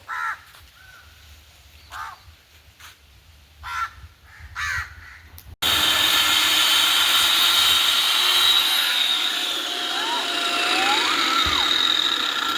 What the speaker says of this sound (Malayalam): കട്ടറായിട്ടതാണ് കട്ട് ചെയ്യുന്നത്.